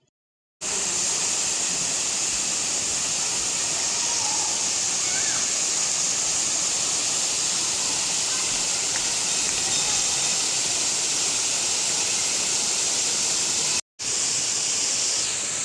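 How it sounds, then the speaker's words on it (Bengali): Moti Jharna waterfall, swollen with monsoon water in green hills, roars as a loud, steady rush of falling water, constant and close, with brief cuts at the start and near the end. "এই হলো মতি ঝর্ণা।"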